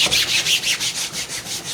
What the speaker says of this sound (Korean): 또 도마도 닦아서 솔로.